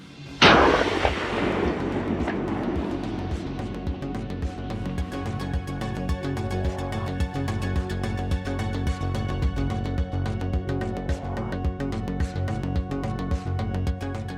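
Gunfire from buffalo hunting in the Australian wild opens with one loud, close blast, followed by a long, dense stretch of rapid, rattling shots that continues steadily without any speech.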